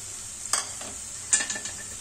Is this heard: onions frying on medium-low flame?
yes